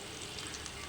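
Whole cumin seeds and ridge gourd frying in a wok: a brief, even, hissing sizzle with no talk.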